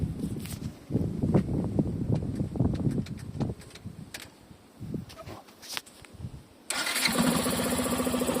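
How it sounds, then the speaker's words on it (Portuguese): A motorcycle with its air filter removed is started in neutral, with cranking and sputtering giving way to a loud, steady, raspy idle close by. "Agora vamos ligar a moto, vocês vão ver o barulho como é da hora."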